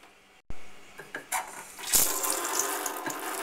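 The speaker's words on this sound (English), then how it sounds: "First thing I like to do is to get a pot of water going." Tap water runs into a cooking pot in a kitchen, starting with a sharp gush after a brief pause, then a steady close rushing stream with small clanks as the pot fills.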